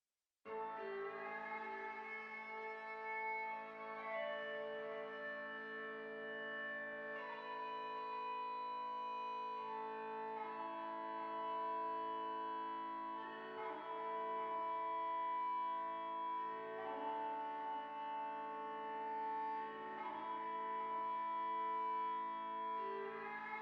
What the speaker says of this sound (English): you get a beautiful grainy delay effect